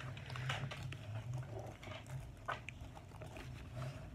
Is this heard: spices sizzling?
no